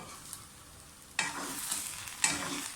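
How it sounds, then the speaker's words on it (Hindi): Freshly cooked green chickpea pulao rice stirred in a pot, two brief scraping, rustling sweeps over a faint background hiss, close and fairly quiet. "एक दफ़ा ऐसा हिला लेते हैं"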